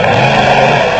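Off-road race car at the Roof of Africa race in Lesotho, its engine a loud, steady, close roar holding a high pitch for about a second with no speech.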